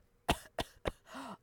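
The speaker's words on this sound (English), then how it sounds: "I will do a very small little fake cough without muting." A person gives a small fake cough, three short, quiet bursts in quick succession followed by a soft voiced throat sound, close and alone.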